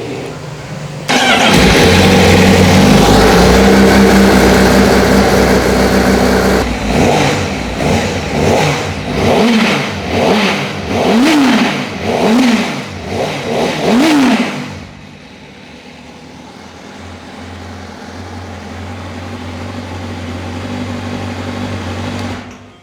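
A 2021 Kawasaki ZX10R or Honda CBR 1000 superbike engine starts with a loud burst, settles into idle, then gets a rapid series of sharp throttle blips before dropping back to a low, steady idle.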